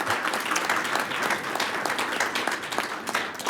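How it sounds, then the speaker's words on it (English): An audience at a school district board of education meeting gives a round of applause for students, many hands clapping steadily and densely for several seconds, moderately loud and unbroken. "Another round of applause for our students from Peak to Peak"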